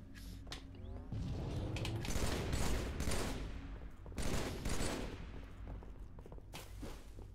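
Gunshots in a video game come as dense, loud bursts of rapid fire, with short gaps between them and faint mechanical clanks and footsteps underneath.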